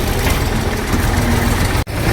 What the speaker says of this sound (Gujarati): એટલે હાલો આપણે ટ્રેક્ટર કરી દીધા હાલતા, લોડર પણ હાલતું